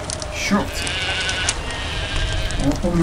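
Sheep bleat several times in the video game Clive Barker's Undying, the calls wavering over a busy game soundscape with someone talking at times.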